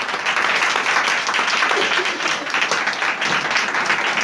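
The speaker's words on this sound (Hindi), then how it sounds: "पाकरों के लिए जोरदार तालियां बजाएं" A church congregation claps in a dense, sustained burst of applause from start to finish, close and loud, with no clear speech over it.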